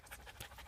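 A husky dog pants in a forest with quick, soft, rhythmic breaths, close by and faint, with no talk over it.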